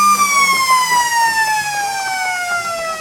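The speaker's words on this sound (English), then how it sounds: "just on the half-time siren there" Long, loud half-time siren sounds at an Australian rules football match between the Lions and Hoppers in the Riverina league, a steady wailing tone with rich harmonics sliding slowly downward and holding for the full three seconds.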